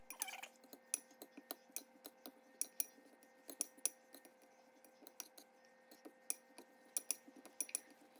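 Chives and eggs dumpling filling being mixed with salt in a bowl, producing steady light clinking and tapping of a utensil against the bowl, close but faint, with no talking.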